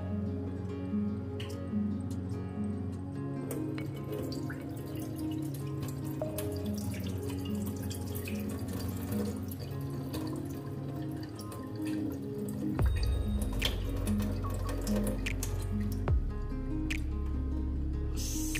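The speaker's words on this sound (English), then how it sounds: "So now we're gonna strain all the water from the gari." Water trickles and drips steadily as soaked gari is squeezed and drained, with a heavier splashing gush near the end, faint music underneath.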